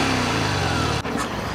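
Harley-Davidson Fat Bob motorcycle on its stock exhaust, idling steadily close by with a deep, even engine rumble and a brief dip near the end before settling back.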